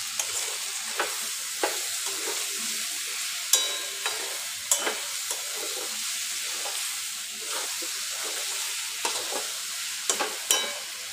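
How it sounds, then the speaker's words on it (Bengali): Egg white sizzles steadily as it is fried and stirred in a pan while making ghugni, with a constant frying hiss and repeated sharp scrapes and clinks of the spatula, close up and with no talk. "এবার ডিমটা দিয়ে একটু ভাজা ভাজা করবো"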